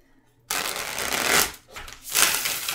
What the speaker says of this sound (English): 2 shuffles to clear out the deck.